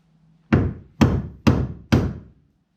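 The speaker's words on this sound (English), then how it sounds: "You just use a chisel and a hammer." Four sharp metallic strikes of a hammer on a chisel popping pop rivet heads off a Bass Tracker Pro Jet boat, evenly spaced about half a second apart, close and loud with short ringing decays.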